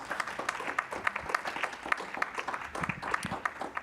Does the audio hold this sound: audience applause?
yes